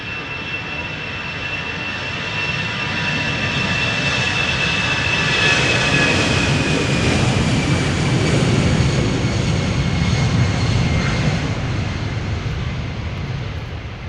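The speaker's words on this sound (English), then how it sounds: "MNG A300 600 in the background just took off" MNG Airlines Airbus A300-600 jet taking off at Schiphol's Polderbaan, a sustained engine roar with a high whine that swells to a peak mid-way, then slowly fades while still strong.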